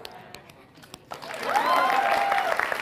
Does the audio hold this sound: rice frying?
no